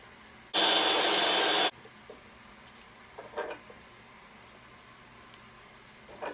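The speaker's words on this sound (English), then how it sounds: "I'm just going to dress it up a little bit here with a countersink" A countersink bit cuts into a drilled hole sized for a washer, a single loud, steady whirring burst of about a second, followed by faint workshop clicks and knocks.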